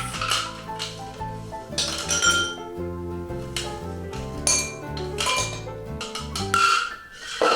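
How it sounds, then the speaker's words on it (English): Ice cubes dropped one after another into glasses for elderflower cordial, bright clinks and taps ringing out close and clear over light background music. "we're going to put few ice cubes to each"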